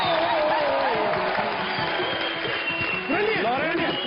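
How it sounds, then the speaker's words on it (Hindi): An audience claps loudly for a brother after a dance, with steady crowd applause and a few whoops, while speech and melodic voices continue over the clapping. "भाई के लिए जोरदार ताली हो जाएगी"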